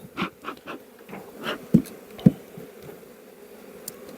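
Honey bees buzz around an open brood frame lifted from a working hive, a faint, steady hum close by, broken by a few soft knocks and clicks from handling the frame.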